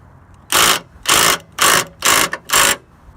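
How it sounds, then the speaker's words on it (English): Five sharp metallic taps on a stuck, rusty nut threaded on a bolt, evenly spaced and loud, close up with quiet between strikes. "Get this piece, put it right here, tap, and then come back here, tap"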